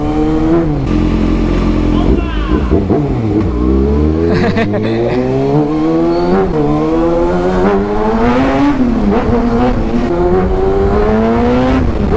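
A Kawasaki Ninja ZX-6R 636cc motorcycle engine revs hard and close, its pitch climbing and dropping through repeated throttle bursts and gear changes, loud throughout.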